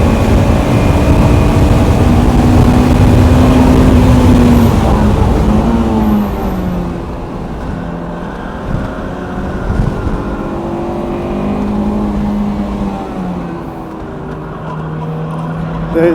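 A Honda S2000 drives on the Autobahn South race track during a track day, its engine droning loud and close from inside the car, pitch rising and falling through shifts and corners, with a person talking over it.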